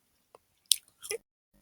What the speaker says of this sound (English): chewing gum right now, so sorry if you hear me